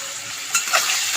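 Brinjal curry seasoned with turmeric and salt is stirred in a hot pan, a soft steady sizzle broken by a few quick scraping strokes of the spoon, close up with no voices.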